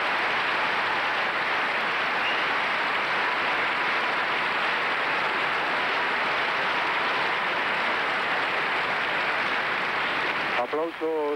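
Sustained, dense applause from a large audience at the 1983 Eurovision Song Contest fills the whole stretch at an even level, a steady wash of clapping that cuts off abruptly near the end.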